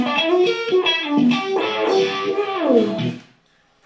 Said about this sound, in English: Sounds cool with distortion.